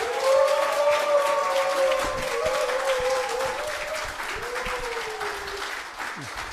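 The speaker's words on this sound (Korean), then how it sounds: "힘찬 박수 부탁드립니다" Steady crowd applause rolls on throughout, with a high wavering tone gliding over the clapping.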